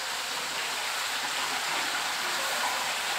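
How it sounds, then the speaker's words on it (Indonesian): Artificial waterfall in a koi pond running steadily after being switched on, a continuous, fairly loud rush of splashing water with no break or change throughout. "sekarang saya coba hidupkan air terjun"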